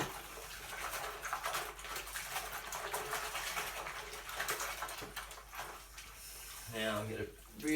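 Water splashes and trickles as grout is washed off a wall tile sink splashback, a faint, steady washing noise with a voice talking near the end.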